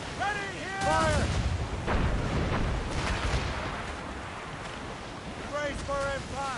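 Ship cannon fire during a naval battle in Assassin's Creed Rogue, heavy booming volleys over wind and crashing ocean waves, with crew members shouting orders over the din.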